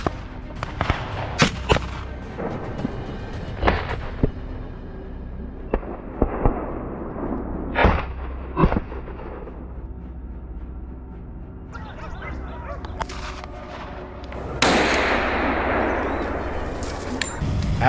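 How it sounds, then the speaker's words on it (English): Rifle shots fired during a wild boar hunt on a mountainside, several sharp, loud cracks spaced irregularly over a low outdoor background, with a harsher noisy burst near the end. "I raised my rifle, took aim, and fired."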